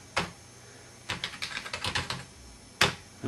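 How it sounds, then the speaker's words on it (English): A password is typed on a computer keyboard: a single keystroke, then a quick run of about ten clicks, and a final louder key press, close and clear with no talk. "I'll type in a password."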